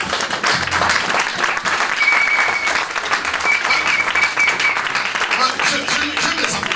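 A church congregation applauds steadily, dense and sustained clapping filling the room with a murmur of voices mixed in throughout.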